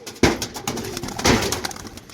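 Pigeons cooing close by, soft throaty coos repeating amid rustling and a busy background.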